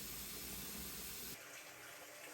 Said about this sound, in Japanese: バスフォームで泡風呂を作りました。